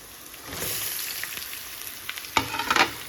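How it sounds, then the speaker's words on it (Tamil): Sliced big onions sizzle in hot oil in a pan, a steady frying hiss that builds after a quiet start, with a few sharp scraping stirs near the end. "இப்போ வெங்காயம் நல்லா வதங்கட்டும்"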